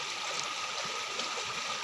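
A stream of rainwater, swollen after two days of heavy rain, flows down from the forest beside a road, making a steady, moderately faint rushing burble with no speech.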